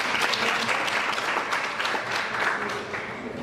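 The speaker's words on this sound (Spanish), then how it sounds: "Lo recibimos con un aplauso." Audience applause welcoming a speaker at a human rights panel session, a full, steady wash of clapping from a seated crowd that holds at one level throughout, then begins to fade slightly near the end.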